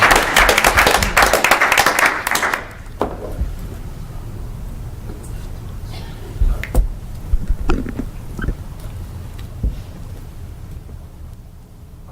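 Audience applause at a council meeting, a loud burst of clapping that stops after about two and a half seconds, followed by scattered handling noises and quiet room sounds.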